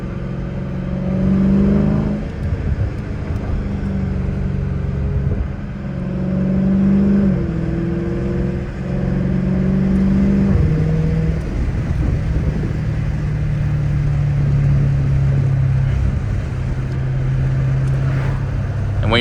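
A Dodge Challenger Scat Pack on a night drive with the windows down: a steady engine drone whose tone rises and falls through the gears, heard from inside the car with road rumble beneath.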